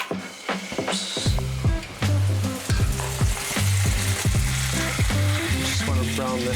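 Venison browning in olive oil in a pan, a loud, close, crackling sizzle with repeated clanks and scrapes of stirring, no voices.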